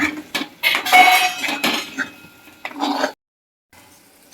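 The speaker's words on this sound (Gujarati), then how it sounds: "હવે આને આપણે બે મિનિટ માટે બધું હલાવી દઈશું" Spoon scraping and clinking against a pan while stirring homemade garlic chutney with spices, several close metallic scrapes and knocks over about three seconds, then a short quiet gap.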